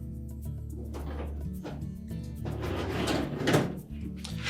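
A GE range oven door is lowered and slid back onto its hinges, making muffled metallic scrapes and knocks that build to a louder clunk as it seats, with background hum.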